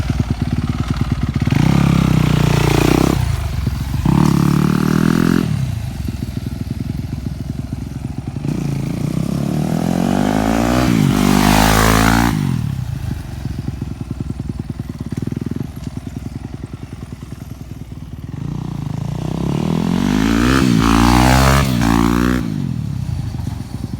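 A dirt bike engine revs hard at high RPM, loud and close, with repeated rising and falling throttle sweeps and a steady buzzing idle between bursts, mechanical clatter underneath.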